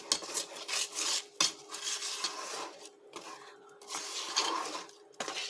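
A utensil stirring coffee pound cake batter (tortang bisaya) in a bowl: irregular scraping and rubbing strokes with occasional sharp clinks against the bowl, close and fairly quiet, without talk.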